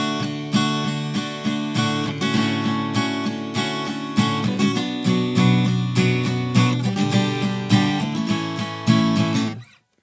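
Acoustic guitar plays the pre-chorus of a song, with strummed chords ringing in a steady pattern and fairly loud and close before the last chord is cut off.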